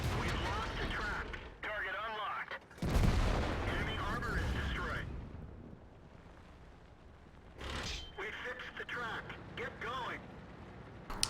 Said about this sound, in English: Seems like artillery's up here still, based upon where that last shell hit